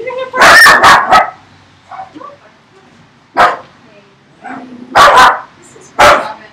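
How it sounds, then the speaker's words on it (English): A dog barks in several sharp bursts, loud and close, with pauses between them and a few softer yips and whimpers in the gaps. "You're gonna bark."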